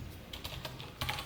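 Java code being typed on a computer keyboard: a quick run of soft, close keystrokes with a slightly louder cluster at the end, heard alone in a quiet room.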